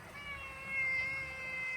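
Cat at a country home under renovation, meowing in a long, drawn-out cry with a wavering pitch, fairly faint and close, with no talking.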